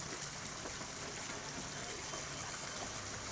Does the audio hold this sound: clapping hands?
no